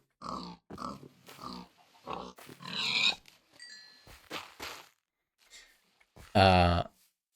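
A pig in Minecraft with the Better Than Wolves mod gives a short, loud, close grunt near the end, following a stretch of intermittent game clicks and someone talking.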